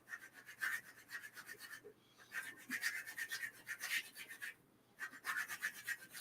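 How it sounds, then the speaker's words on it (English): A charcoal pencil sharpened while slowly rotated, giving steady close rasping scrapes in repeated strokes with two brief pauses. "I'm slowly rotating the pencil as I sharpen it."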